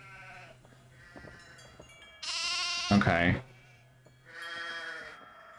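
Sheep in the Nancy Drew game The Haunting of Castle Malloy give two loud, quavering bleats in a row over a low game hum, and a voice speaks briefly.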